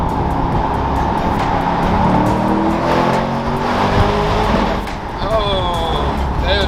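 A 2021 Corvette Stingray engine roars hard under acceleration, loud and close, with rising revs broken by a couple of quick downshifts and a brief tire chirp, while occupants talk over the noise.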